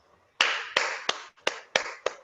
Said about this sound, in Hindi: सिस्टम के जोरदार तालियां होनी चाहिए